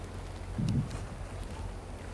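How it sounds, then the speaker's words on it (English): Low, rumbling wind buffets the microphone outdoors at Vulture City ghost town near Wickenburg, Arizona, with one brief stronger gust near the start; no voices. "It's kind of windy right now."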